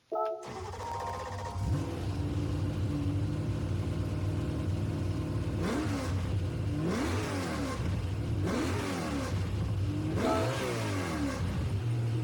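2011 BMW Z4 GT3 race car in Gran Turismo 7 firing up with a sharp startup bark, settling into a rumbling idle, then several rising throttle revs in a row, close and clear.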